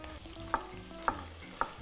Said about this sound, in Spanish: el ajito se nos va friendo un poco